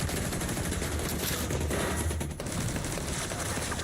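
Sustained gunfire from a firefight in the video game The Division 2, a dense continuous stream of rapid shots and noisy combat sound with no pauses.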